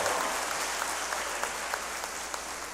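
Audience applause fills a law school hooding ceremony for a graduating class at Florida A&M University College of Law, a steady, moderately distant clatter of many hands sustained throughout with no voices.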